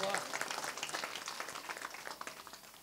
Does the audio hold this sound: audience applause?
yes